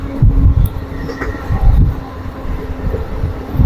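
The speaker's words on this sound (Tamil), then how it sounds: "இப்போ வந்து ரயிலோட வேகம் வந்து குறையுது பாருங்கள், அப்படியே கொஞ்சம் அப்படியே ஸ்லோவாகுது." Passenger train slowing as it approaches Sivadi station on a rail journey from Dharmapuri to Muthampatti, a close, continuous rumble of wheels and carriage with rhythmic clunks and wind noise, no talking.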